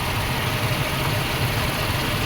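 A 1995 Suzuki Escudo engine idles with a steady, even rumble, close and continuous with no other sounds.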